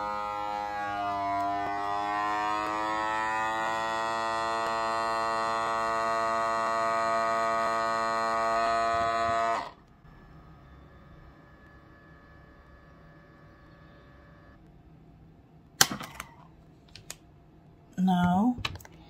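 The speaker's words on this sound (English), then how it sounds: "Just put the end of the plastic bag to seal it like this and" A CalmDo automatic vacuum sealer works on a plastic bag, giving a loud tonal motor hum for about ten seconds before it drops to a faint drone, followed by a few brief clicks and rustles.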